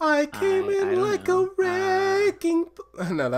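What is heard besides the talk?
No distinct noise like a dog, phone or traffic.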